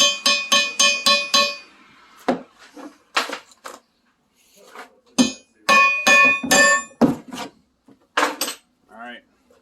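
Wheel studs being hammered out of a Camaro's 8.8 axle flanges, a run of five sharp ringing metallic strikes, then scattered single blows and clinks with pauses between, loud and close with no talking.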